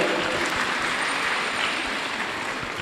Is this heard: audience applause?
yes